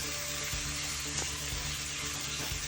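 Flat beans and chayote fry lightly in oil with nigella seeds, a soft continuous sizzle with a few gentle stirring knocks spaced through it.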